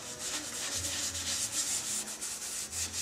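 Oak pen holder turning on a lathe while being polished with Yorkshire Grit abrasive paste, a steady close rubbing hiss with soft rhythmic pulses from the rotation, heard alone.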